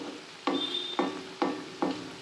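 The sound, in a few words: cauliflower pakoras frying in hot oil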